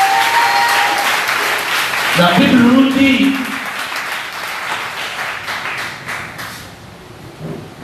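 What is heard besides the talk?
congregation applauding and acclaiming in church service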